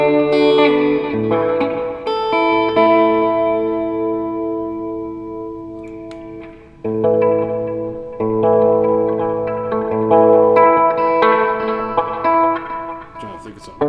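An electric guitar plays sustained clean chords through a REVV D25 amplifier with front-end delay and reverb, notes ringing out and trailing in echoes across several phrases, close and unaccompanied.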